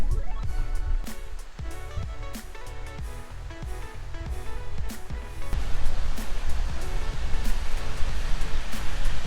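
Waterfall near Astoria, Oregon, gives a loud, steady broadband rush of falling water, with other sounds over it that come and go and a swell in volume partway through.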